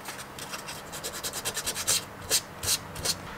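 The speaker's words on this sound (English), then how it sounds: "I'm actually able to expose the copper by sanding it off. So I'm going to sand this one as well." Ribbon cable ends being sanded to expose the copper conductors, heard as quick, close, rhythmic scratchy rubbing strokes that grow a little louder toward the end.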